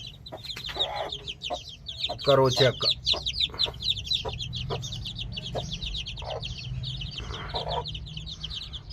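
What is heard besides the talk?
hen clucking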